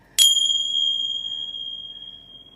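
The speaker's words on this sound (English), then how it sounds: "I'm just going to grab my Tibetan chimes here" A set of Tibetan chimes is struck once for a sound bath, giving a bright, close metallic ring with a clear attack that sustains and slowly fades over a couple of seconds in an otherwise quiet room.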